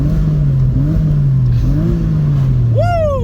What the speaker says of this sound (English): Check out this engine.